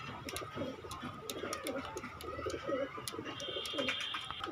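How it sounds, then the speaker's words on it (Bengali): Pakistani pigeons coo steadily at a pigeon market in Gallamari, Khulna, with repeated soft throaty coos from several birds close by over a low crowd murmur and a few faint chirps. "কবুতরের মাশাআল্লাহ খুব সুন্দর কোয়ালিটির কবুতর"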